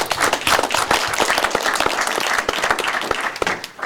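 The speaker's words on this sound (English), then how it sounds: "gotta wait and take a little bit of applause here" Audience applause rings out at a board of education meeting, a dense, steady patter of many hands clapping close by for about four seconds with no one speaking.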